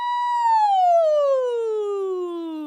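A voice imitates a siren during a musical theatre vocal warm-up, a single smooth high hoot that holds then glides steadily downward in pitch, loud and clear with nothing else heard.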